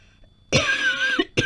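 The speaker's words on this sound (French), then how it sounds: "Et là, je me vais à tousser." A single person coughs once, close and fairly loud, a harsh burst lasting under a second followed by a brief second cough-like sound after a short pause.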